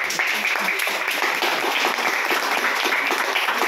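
A church congregation claps together in praise, a dense, loud, continuous burst of applause heard close up, with voices mixed in.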